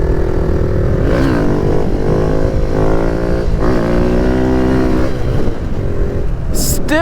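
Kawasaki Z125 Pro motorcycle cruising, its small engine droning loud and steady with repeated rises in pitch as it revs and shifts, under constant wind rush and with no talk.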